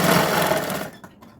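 A sewing machine stitches a double seam on a blouse with a dense, steady mechanical whir, close and fairly loud, that slows and fades toward the end with a few faint clicks.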